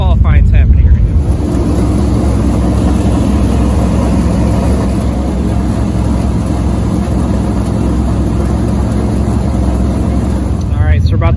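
Late model race cars qualifying on a dirt track, loud continuous engine roar with heavy low rumble filling the whole stretch, distant and blended, with a voice briefly at the start and end.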